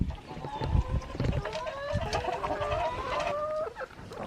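A small flock of friendly farm chickens, a rooster among them, clucking and calling close by in several overlapping rising cries, with brief low thumps and scuffles underneath.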